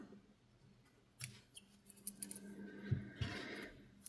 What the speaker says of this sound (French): Et je le coupe.